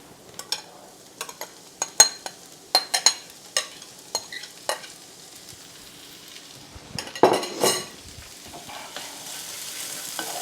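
Chopped vegetables are tipped onto softened onions in a pan and stirred, with a series of sharp clinks and scrapes of a utensil against the pan at close range, then a brief louder rustle of food and a faint sizzle.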